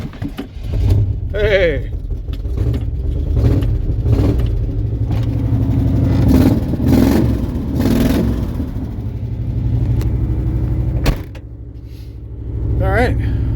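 A car engine is cranked and struggles to start in freezing cold with ice on the windshield, then catches and revs in a steady loud drone, with a voice briefly speaking over it and a sudden drop near the end.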